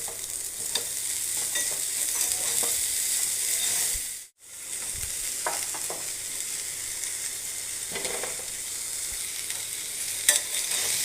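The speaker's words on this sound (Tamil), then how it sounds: "அவரைக்காய், பீன்ஸ் ஒரு கிளறிக்கலாம்." Broad beans and green beans are stirred and fried in a pan for a Tamil bean paruppu usili, giving a steady close sizzle with scraping stirs throughout and a brief pause near the middle.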